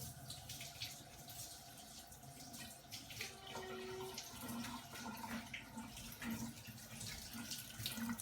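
Tap water runs into a kitchen sink while greens are washed under it. The stream is a soft, continuous rush that stays fairly faint throughout, with light splashing as the leaves are handled.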